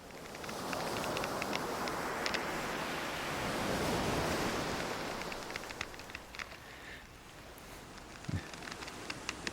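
Ocean waves wash and hiss at open sea, a broad, soft roar swelling in the middle and easing off, with small crackles of spray on top.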